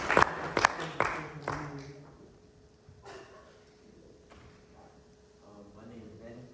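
Brief burst of audience clapping at a speech class event, a few loud sharp claps up front that fade within about two seconds, followed by quieter room sound and a voice talking.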